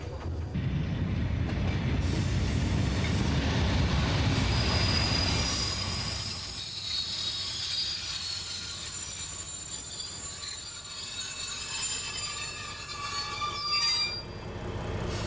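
EAD X 4519 diesel railcar running on the Cahors line, heard loud and close with a continuous rumble, wheel squeal and rail clatter, the low drone easing midway while high-pitched squeals persist to the end.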